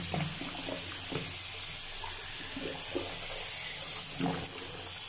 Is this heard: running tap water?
yes